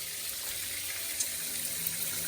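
Water running into a bathtub while rinsing a bath product away, a steady close hiss of flowing water with faint splashes.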